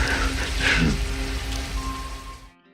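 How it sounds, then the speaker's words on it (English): Heavy torrential rain pours steadily over a night scene in Los Angeles from the 1982 film Blade Runner, a dense hiss close around that cuts off abruptly near the end. "the first time I saw Roy Batty sitting there beneath the torrential rain of Los Angeles, his mechanical body slowly shutting down."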